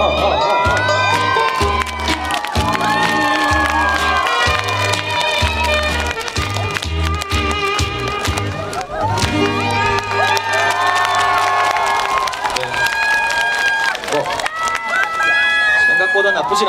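Outdoor audience at the 2024 Imsil Okjeongho cherry blossom festival cheers and shouts loudly and continuously for an encore, with thumping music and a voice over the crowd.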